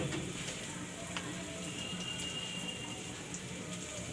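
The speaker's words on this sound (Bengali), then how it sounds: "আমি সরিষাটাকে তেলের মধ্যে ভাজা ভাজা করে নিচ্ছি।" Mustard seeds frying in oil give a steady, fairly quiet sizzle with faint crackling pops scattered over it, continuous throughout and heard alone.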